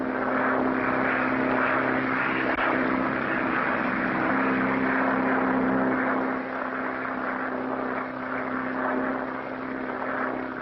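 A propeller airplane takes off into stormy Atlantic weather, its engine drone steady and loud throughout with a constant hum and broad roar, fading slightly near the end.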